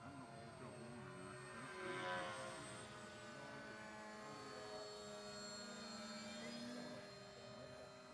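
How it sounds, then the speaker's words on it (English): A small airplane passes close by the camera, producing a continuous droning engine tone at moderate level that swells slightly and then fades back over several seconds. "take a flyby of my camera down here, will you?"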